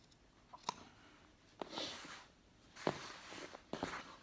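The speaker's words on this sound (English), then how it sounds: "I just will cut along the neck seam all the way around" Scissors snip through a T-shirt along the neck seam in a few separate crisp cuts with pauses between them, close and quiet.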